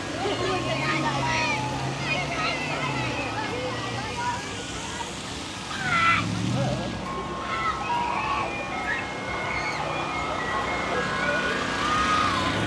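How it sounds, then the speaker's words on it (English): Ice cream truck chiming its music outdoors near the beach in Navarre, a tinkling tune carried from a distance beneath people talking and traffic noise. "when the ice cream truck played music"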